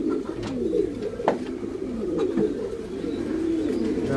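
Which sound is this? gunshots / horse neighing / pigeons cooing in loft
pigeons cooing in loft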